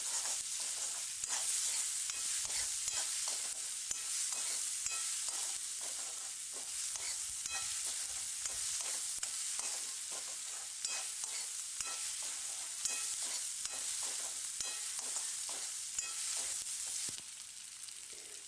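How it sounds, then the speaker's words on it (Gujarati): Onions sautéing in a kadai while being stirred without pause, a continuous close sizzle broken by quick repeated scraping strokes of a spoon against the pan, with no one talking. "એને આપણે સતત હલાવતા જ રહેવાનું છે, જેથી એ નીચે કઢાઈને ચોંટી ના જાય।"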